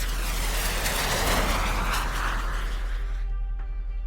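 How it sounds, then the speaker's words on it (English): A steady, broad roar of an aircraft with a deep rumble underneath fills the air, then thins out and fades toward the end. "That's the sound of an aircraft."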